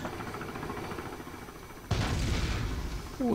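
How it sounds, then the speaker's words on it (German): A video game explosion bursts in suddenly as a loud, broad rumbling roar over steady background game noise, then holds for over a second. "Explosion."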